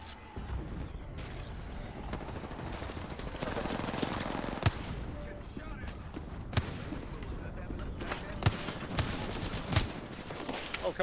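Video game gunfire crackles in a dense, steady barrage of overlapping shots and distant booms, with a few sharper reports standing out. Voices talk over the continuous shooting throughout.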